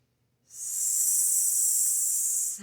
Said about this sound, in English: Out through the mouth, creating that S-like sound.